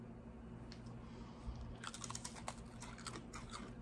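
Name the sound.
crunchy coffee-flavored Indonesian snack being chewed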